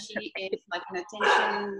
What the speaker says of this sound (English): I am so sorry that my dog's barking.